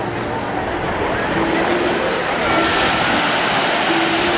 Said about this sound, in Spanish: Hay olas.